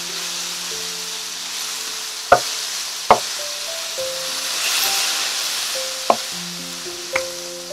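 Beef pieces frying in a stir fry pan, steady sizzle with four sharp clanks as the meat is flipped and turned, close and alone without talk.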